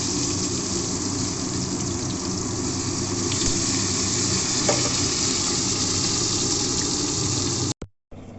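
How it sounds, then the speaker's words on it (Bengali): Eggplant pieces sizzle steadily in hot oil, a dense, even hiss that runs close and unbroken for most of the stretch before cutting off abruptly near the end. "এইভাবে আমি বেগুনগুলো ভেজে তুলে নেব"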